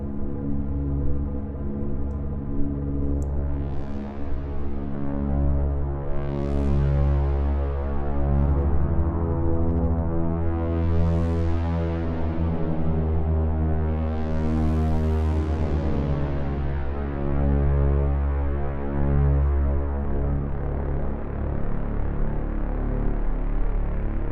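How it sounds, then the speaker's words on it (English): A synthesizer with its feedback turned to maximum gives a dense, droning tone thick with layered harmonics, while repeated rising sweeps swell and fade over it as the sound goes on unbroken. "I'm hitting the feedback max button right now."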